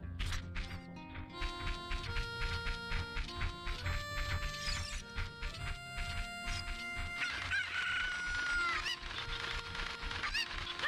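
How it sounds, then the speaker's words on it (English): Chickens clucking in The Legend of Zelda: Ocarina of Time, a flurry of repeated game fowl squawks and clucks over background game music, steady and busy throughout, with no speech. "Guess I gotta catch chickens."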